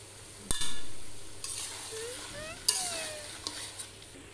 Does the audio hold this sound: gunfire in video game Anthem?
no